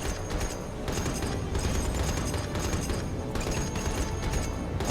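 Anti-aircraft guns on a Japanese navy warship in War on the Sea fire in a dense, continuous fusillade of rapid bursts, loud and steady throughout with rumbling engine noise beneath.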